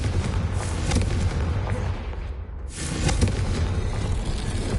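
A Confringo fire spell in Hogwarts Legacy bursts with a loud booming blast, then a rumbling roar that dips briefly and swells again, without speech.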